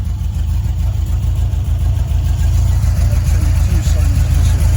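A Porsche 964 Turbo replica kit car built on a Volkswagen Type 3 base, missing two cylinders, idles with a low, lumpy, uneven rumble at a kit car show, steady and close.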